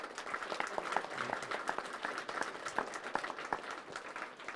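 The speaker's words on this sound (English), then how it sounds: "So if you could give him a round of applause" Applause from the audience at a wildland fire preparation community meeting, a dense, even patter of many hands clapping at moderate distance, continuing steadily throughout.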